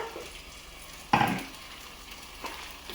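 Coriander paste roasting in a hot pan for a prawn dish, with a steady low sizzle that flares into a sharp, crackling burst partway through, as if stirred, then settles back to a quiet fry.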